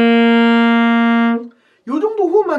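A saxophone played with proper breath pressure holds one steady, clean, rich note for over a second, then cuts off, followed by someone speaking.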